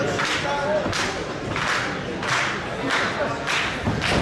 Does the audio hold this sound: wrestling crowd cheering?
yes